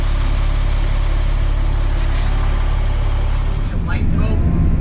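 A tour bus engine at Icy Strait Point, Alaska, hums with a loud, continuous low drone, while voices talk over it and the engine note shifts near the end.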